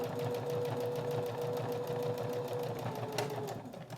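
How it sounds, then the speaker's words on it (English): Sewing machine back stitching a fabric seat belt cover, a steady rapid mechanical whir of the needle running continuously at close range, fairly quiet. "And then I back stitch just a little bit at that opening."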